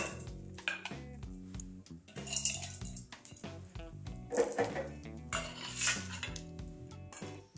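A spoon scrapes and clinks against a metal pan as spices and chana dal are stirred and dry-roasted for sambar, giving irregular metallic taps and rattles close by with no talking.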